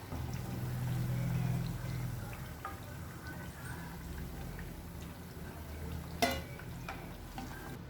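Kerala-style pazham pori, ripe banana fritters, frying in hot oil: a soft, continuous low bubbling sizzle with occasional stirring clicks and one sharp clatter near the end.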